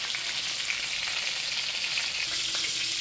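Iowa pork chops fry in a pan with a steady, close broadband sizzle that holds evenly throughout, with no talking.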